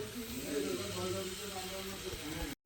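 Mutton curry simmers in a home kitchen, giving off a steady, soft steam hiss that runs without pause for a few seconds before cutting off abruptly, with faint voices in the background.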